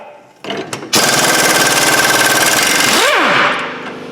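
A power tool buzzes off a front brake bracket on a Mazda MX5 Miata in one loud, close, continuous burst of rapid rattling impacts lasting a few seconds, then winds down, with no voices.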